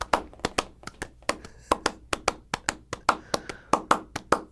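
A person imitates a horse's hoofbeats by hand, clapping or tapping out a steady galloping rhythm of about twenty sharp, close strikes, loud and alone without talk.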